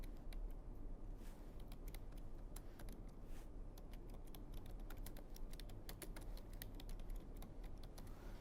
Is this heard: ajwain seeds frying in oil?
no